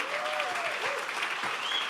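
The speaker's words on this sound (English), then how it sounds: "give these guys who are here a big round of applause, the 615 Tenants Association" A crowd at an anniversary benefit gala applauds the 615 Tenants Association in a steady, sustained round of clapping, with a few voices and cheers rising through it.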